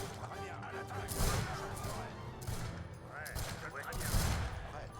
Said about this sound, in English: We have to fire mortars, like mortar shells.